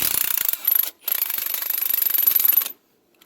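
Wrench or ratchet loosening a ball joint nut on a 2004 Ford F-350 Super Duty, a close, loud rapid ratcheting and metal grinding in two bursts separated by a short pause, then silence.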